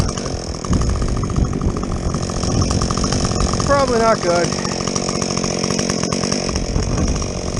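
Muffler-modded Husqvarna 562XP chainsaw bucking a recently felled tree, a loud continuous close engine whine and cutting roar throughout, with someone talking briefly over it.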